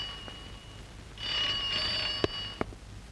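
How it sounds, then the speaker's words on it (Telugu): An old landline telephone in a Telugu family drama film rings in a short burst of bright trilling tones, followed by a couple of sharp clicks, against a quiet background. "ఏమిటి రాజుది, వేళా పాడా లేకుండా ఫోన్ చేసి ఇలా విసిగించడం ఏమిటి?"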